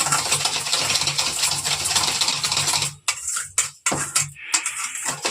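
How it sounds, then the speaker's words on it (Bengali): A sponge cake batter being beaten with sugar by hand or mixer gives a continuous whirring, scraping churn that suddenly breaks into short bursts with gaps, close up and without talk. "চিনিটা দিয়ে একদম ভালো করে ফাটাতে হবে"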